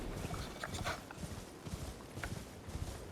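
Horse hooves clip-clop at a steady riding pace in Elden Ring, a continuous rhythmic trot running through the whole stretch with soft game ambience underneath and no talking.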